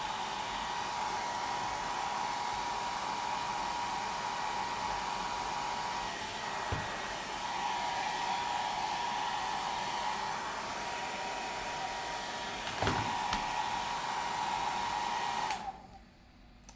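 A hair dryer blows steadily over a watercolor painting of a Peruvian tiger lily, a continuous close whir that holds level for about fifteen seconds, with a couple of faint knocks, then cuts off abruptly near the end.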